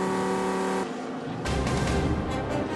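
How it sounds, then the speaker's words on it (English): GT race cars at Virginia International Raceway during the Oak Tree Grand Prix flash past with loud engine roars, one tonal engine note giving way to a sharp passing burst and further close, overlapping passes with no talking. "listen to the cars go by and try to pick out what type of car and engine combination is flashing past"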